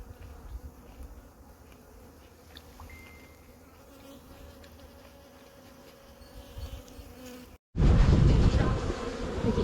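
A steady drone of many bees buzzing around hives, close and continuous, growing suddenly louder and fuller toward the end.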